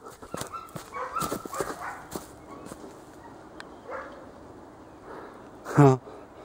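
A dog named Joy whimpers and gives short yips on a walk to a mountain hut, with someone talking over it and one louder bark-like cry near the end.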